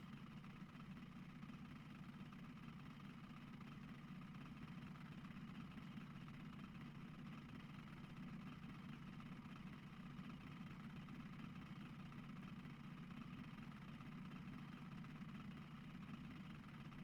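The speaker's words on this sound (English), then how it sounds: "Surprised those aren't spooked by the engine noise" Boat engine idles in the video game Russian Fishing 4 as a faint, steady, continuous low hum and drone with no change throughout and no talking.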